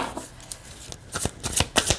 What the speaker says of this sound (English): I feel like that was a bad shuffle.